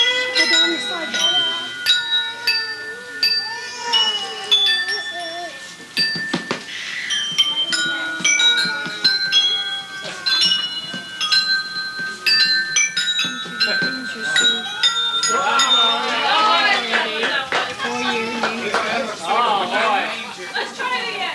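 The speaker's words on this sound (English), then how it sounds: "The wind chimes" Wind chimes along a sidewalk at a 1996 family reunion ring with bright, sustained, overlapping tones throughout, under people talking and laughing nearby.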